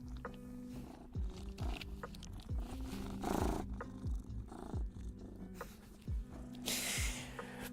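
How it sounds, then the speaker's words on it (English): A cat purrs in a low, rumbling, continuous drone close by, mixed with soft wet mouth and rubbing noises now and then. "Purring and cat mouth rubbing sounds."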